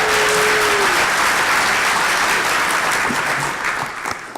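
Sustained applause from a large audience at a progressive legislators' conference, loud and dense clapping that stays steady before tapering slightly near the end.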